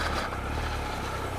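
A dirt motorcycle engine drones steadily as the bike rides a muddy winter trail, a continuous close rumble with broadband road and wind noise and no clear revving.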